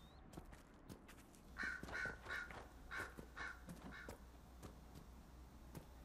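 Crows caw in a Dragon Age Inquisition game scene, a run of several hoarse calls in the middle stretch, moderately near, over a low steady ambient rumble with scattered soft clicks and steps.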